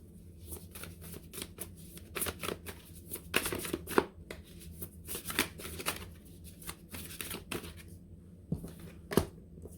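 A deck of motivation manifesto cards is shuffled by hand in a run of crisp riffling and flicking bursts, uneven in rhythm, close and moderately loud, with brief pauses between them.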